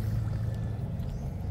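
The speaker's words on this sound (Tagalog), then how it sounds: "Tingnan mo yung tubig umagos oh." Water trickles and flows out of soft mud on a tidal mudflat at low tide, a steady close gurgling wash with low rumbling wind noise.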